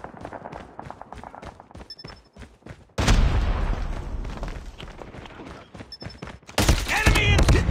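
Rapid bursts of automatic gunfire in a Call of Duty match, loud and close, rattling off in dense volleys with short gaps, while game voice callouts play in between.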